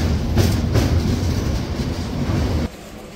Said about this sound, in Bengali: ও পাশের যে ব্রিজটা রয়েছে ওখান দিয়েও কিন্তু একটা ট্রেন এই মুহূর্তে পাস হচ্ছে।